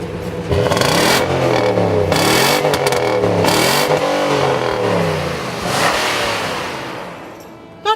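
A 2014 Nissan Titan PRO-4X V8 starts and is revved repeatedly, loud and close, each throttle blip rising and falling before settling to idle and a final click.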